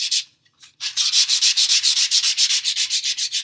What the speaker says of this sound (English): you're going to have to lightly sand the dry paint to get rid of those